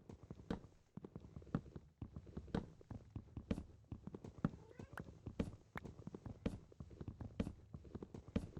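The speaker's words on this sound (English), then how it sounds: "I hear a cat." A cat meows in the video game Minecraft, its calls mixed among steady thumping footsteps and clip-clop game sounds that keep a busy, fairly loud rhythm throughout.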